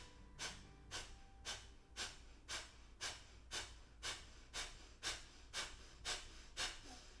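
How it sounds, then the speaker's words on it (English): Kapalabhati breathing: a series of about thirteen short, forceful nasal exhales at a quick steady rhythm, each a sharp breathy puff, close and alone without talk. "We're gonna try for 15 breaths. So 15 little exhales."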